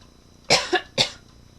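Three harsh coughs in quick succession, loud and close to the microphone, from someone crocheting a corner-to-corner blanket, with no speech around them.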